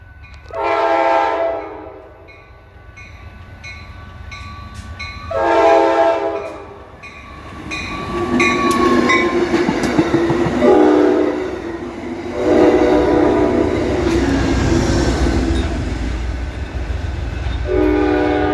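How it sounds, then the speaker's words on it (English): Amtrak Cascades 503 passenger train passing, with a P42 locomotive (No. 153) pushing at the rear and a cab car leading; loud horn blasts sound repeatedly in bursts while the rumble and rattle of the cars builds and rolls past close by. "Amtrak Cascades 503, the 153 P42 for the power."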